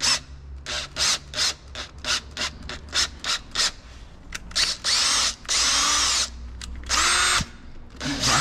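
Makita-clone cordless drill driving a screw into a shaft seal on an IHC 733 tractor ZF axle, with short repeated bursts of whirring followed by longer, louder runs, close up.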